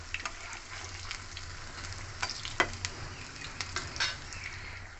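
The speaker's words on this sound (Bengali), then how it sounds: "বড়াগুলো এবার লাল লাল করে ভেজে নেব।" Lentil vadas deep-fry in hot oil, giving a steady, fairly quiet sizzle with scattered light clinks and stirring taps over it, and no one speaking.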